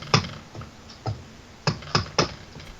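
Six separate key presses on a calculator while someone works out a sale price, each a short sharp tap with uneven gaps between them, close up and fairly quiet with no talking.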